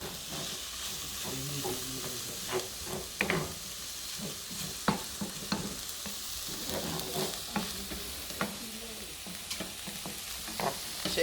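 Onions sautéing in a pan for jambalaya, a continuous close sizzle broken by repeated scraping and stirring clicks of a utensil against the pan, with no voices.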